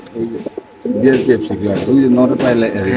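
Pigeons coo continuously from cages at a busy pigeon market, loud and close, with overlapping throaty calls and someone talking over them.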